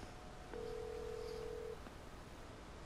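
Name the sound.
telephone call ringing tone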